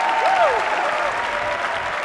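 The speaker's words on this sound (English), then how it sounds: "Hearing a crowd, thousands of human beings, bashing their chest for a team that has already done something rather phenomenal" A huge stadium crowd at the Dota 2 Boston Major applauds and cheers in a dense, loud, continuous roar of clapping and shouting, with a rising whistle cutting through early on.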